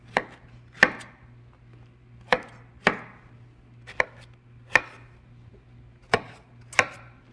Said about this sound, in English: I'm going to give it a quick chop as well. And then I'm going to go into smaller pieces to put into the food processor.